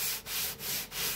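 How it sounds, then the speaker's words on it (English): Sandpaper rubs back and forth on wood in four steady strokes, a close, raspy scratching with brief pauses between passes. "Just want to sand that flat right there, that angle."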